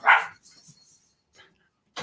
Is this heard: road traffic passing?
no